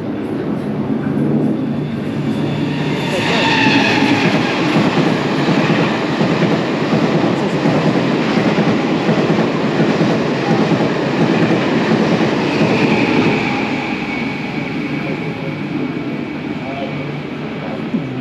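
A train pulls in and runs past on a Sunday in Taiwan, a loud, continuous rumble with rail clatter and a brief high squeal, holding steady close by throughout.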